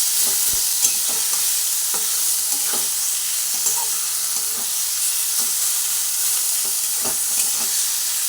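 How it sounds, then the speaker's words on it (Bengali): A spoon stirs salted mashed cauliflower in a hot pan, scraping in regular strokes roughly every second over a constant soft sizzle, close and steady with no talking. "নুন দেওয়ার পরে খুব ভালোভাবে নাড়াচাড়া করে ভর্তাটা আমি রেডি করে নিই"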